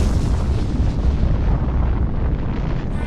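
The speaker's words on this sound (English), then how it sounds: "Where will you be when the atomic bombs fall?" An atomic bomb explosion in a dramatized announcement produces a loud, sustained, deep rumbling roar that stays dense and steady throughout, with no distinct separate blasts and no voices.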